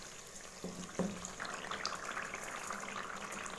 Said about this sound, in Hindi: पानी डालूँगी हसबे ज़रूरत।